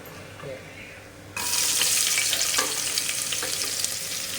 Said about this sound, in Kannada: ಇದು ಫ್ರೈ ಆದ್ಮೇಲೆ ಇದು ನೀರುಳ್ಳಿನ ಹಾಕೋದು